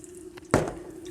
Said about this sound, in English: Gonna add a bit more olive oil.